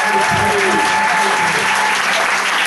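A church congregation breaks into steady, dense applause that fills the space and holds evenly throughout, with a faint murmur of voices and a sustained tone running beneath the clapping.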